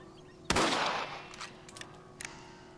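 Single loud rifle shot in Red Dead Redemption, a sharp crack with a long decaying echo, followed by faint distant reports and small clicks.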